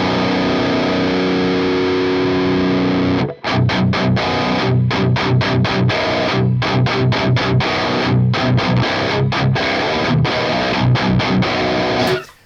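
High-gain electric guitar played through a Fractal 5150 amp model, likely with a tube screamer-style overdrive in front, plays loud, heavily distorted chugging riffs with rhythmic stops and a sustained chord ringing out before cutting off.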